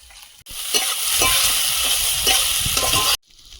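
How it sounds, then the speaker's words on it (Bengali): Spices with turmeric and Kashmiri chili powder are stir-fried in a pan, a loud, steady sizzle broken by scraping stirring strokes that stops abruptly. "কাঁচা গন্ধ চলে যাওয়া পর্যন্ত ভালোভাবে কষিয়ে নেব"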